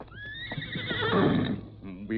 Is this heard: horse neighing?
yes